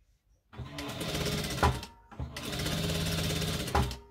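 A sewing machine stitches a button placket with black thread in two loud, steady bursts of rapid needle chatter, each ending in a short clunk, with a brief pause between them.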